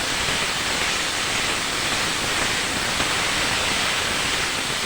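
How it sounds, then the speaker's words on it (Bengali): Cauliflower, potato and onion frying in oil for a fish-oil curry, a dense, even hiss of sizzling that holds steady and fairly loud throughout, with no voices. "ফুলকপি আলু পেঁয়াজটাকে কিছুক্ষণ আমি ভেজে নেব।"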